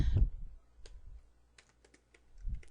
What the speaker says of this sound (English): And I'm going to type in my words,